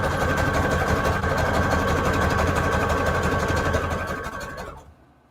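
A sewing machine runs loud and close, rapidly stitching through junk journal pages made from a book, a steady fast chatter that slows and stops near the end.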